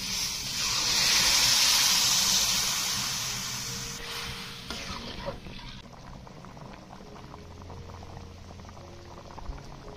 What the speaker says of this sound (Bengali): আলুটা মশলা দিয়ে সুন্দরভাবে কষানো হয়ে গেছে, এবার জল দিয়ে দিই।